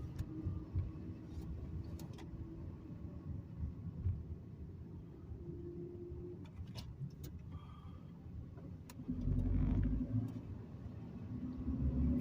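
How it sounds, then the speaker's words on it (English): Manual-transmission car pulling away as the clutch pedal is slowly let out with a little gas, a low, quiet engine rumble inside the cabin that swells near the end with a few faint ticks. "you give it a little bit of gas and slow it off the clutch pedal, like I'm doing right now"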